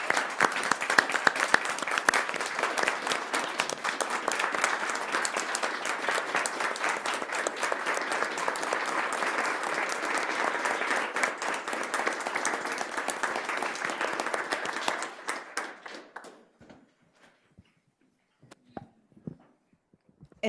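A board meeting audience gives a sustained round of applause for Charlene, dense steady clapping that holds for about fifteen seconds, then tapers off to a few scattered final claps and quiet.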